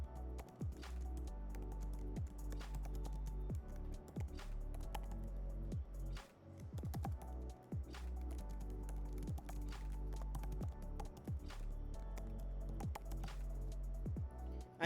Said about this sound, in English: I will type in some text just to show you how it looks.